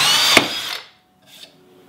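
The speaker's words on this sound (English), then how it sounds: "and you just drill a hole in the wood" A 3/8 drill bit bores a hole in a piece of scrap wood clamped in a vise, heard as a short, close whirring grind that stops, then a faint second burst.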